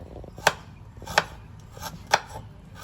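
A knife chopping ginger on a cutting board in a home kitchen, four sharp, evenly spaced knocks spread over a few seconds, close and fairly clear.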